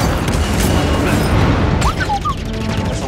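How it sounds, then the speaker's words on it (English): A ship cannon fires lasers in Star Wars Jedi: Fallen Order, sending loud rumbling booms and blasts through a dense, noisy battle, with a few sharp whizzing zaps near the end. "So that fires the cannon."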